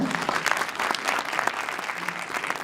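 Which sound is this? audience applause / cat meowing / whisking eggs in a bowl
audience applause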